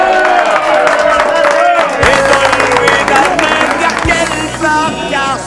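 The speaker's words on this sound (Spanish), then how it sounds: "Un aplauso para todos ellos." A crowd of villagers in Pozondón, Aragón applauds and cheers at an outdoor village gathering, loud and dense, with voices talking and shouting through the clapping.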